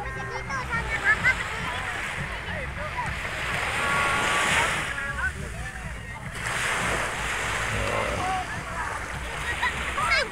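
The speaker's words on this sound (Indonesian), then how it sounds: "Ini pantai lepas ya, teman-teman, ini pantai lepas, laut lepas." Surf breaking along an open-sea beach, a broad steady wash with swells rising around four and eight seconds, roughened by wind on the microphone, with a voice speaking over it.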